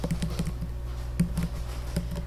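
Someone types a post title on a computer keyboard: quiet, close, irregular clicking taps in short bursts with small pauses, over a low steady hum.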